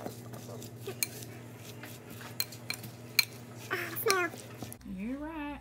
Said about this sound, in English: Now mix it all together.